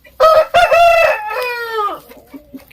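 A rooster crows loudly and close by, a single long cock-a-doodle-doo that rises and trails off, followed by a few soft clucks from chickens.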